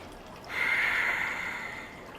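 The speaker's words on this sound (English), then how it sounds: "Close the eyes and breathe." A single audible breath with eyes closed during a pranayama breathing exercise, a soft, airy rush that rises and then fades, heard close up in a quiet room.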